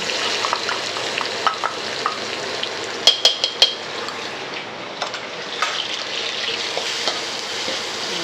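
Crushed ingredients for Thai basil chicken fry and sizzle steadily in a pan with scraping stirs, louder clatters of the utensil around the middle; no talk.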